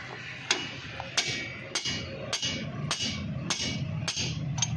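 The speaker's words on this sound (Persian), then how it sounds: "چکش" A hammer strikes a rod on the rear suspension of a Peugeot Pars, Samand or 405: eight sharp metallic blows in a steady rhythm, about two thirds of a second apart, close and clear over a quiet workshop background.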